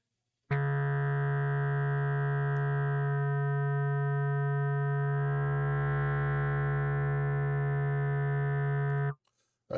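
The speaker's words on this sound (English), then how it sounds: "Okay, then we turn on the sine wave." A sine wave from an Instruo Ts-L oscillator in VCV Rack is layered over a sub-oscillator as one steady, loud tone. It holds for about nine seconds alone, with a strong low fundamental and a slowly shifting upper edge.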